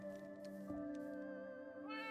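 A Minecraft cat meows from the game, a couple of soft tonal mewls over a steady quiet background of in-game music or ambience.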